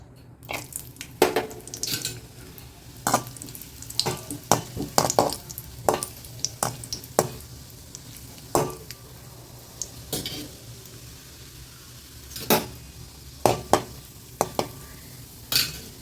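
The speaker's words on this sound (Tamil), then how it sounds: "நெய் காயட்டும் முந்திரி பருப்பு போட்டுக்கலாம்" Cashews frying in hot ghee in a pan while making carrot halwa, with repeated sharp scrapes and clinks of a spoon stirring against the pan over a steady low sizzle, close by, no talking.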